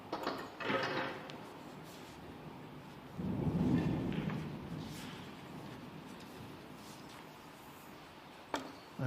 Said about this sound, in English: As the thunder rumbles